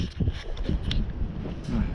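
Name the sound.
gusty wind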